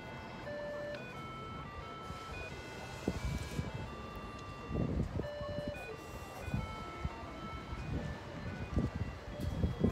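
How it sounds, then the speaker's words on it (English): A traffic light crossing tune in Kyoto, Japan, a simple electronic melody of beeping tones, plays at a distance over street noise and passing traffic, repeating a short tune. "Every time the light goes green, this little tune comes on."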